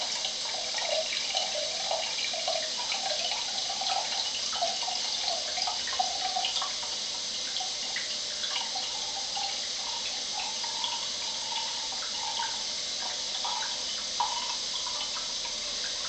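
Kangen water at level 9.0 (level 2) being poured into a test sample, a steady trickle of liquid with faint splashing and drips that runs continuously and quietly, close by, with no talking.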